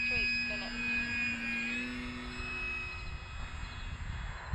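An FMS Kingfisher RC airplane flies in light wind at dusk, its steady whining motor tone shifting in pitch as it passes, under ongoing talk.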